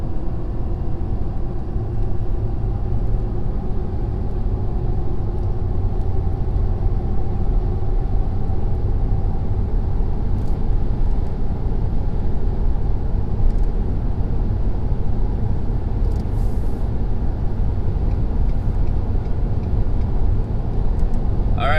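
A 2019 Ford F-350 pickup with the 6.7 engine accelerates onto a highway, a loud, steady engine and road rumble heard from inside the cab, with no talk.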